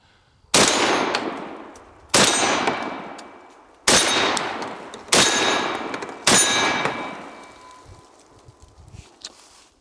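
Five loud shots from a Fed Arm FX3 semi-automatic 12 gauge shotgun firing buckshot outdoors at steel targets, each sharp blast followed by a long rolling echo, spaced about a second or two apart.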